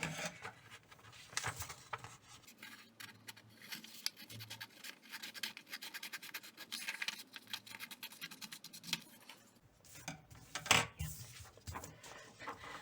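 Scissors snipping and scratching through a folded white paper sheet, with a series of close, crisp cuts and rustles while making a winter paper cut-out, with no talking.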